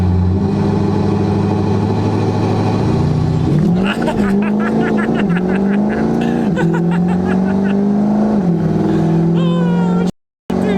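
A Ford Powerstroke diesel truck accelerating hard down the street, a loud, close engine roar climbing in pitch with gear changes, ending abruptly.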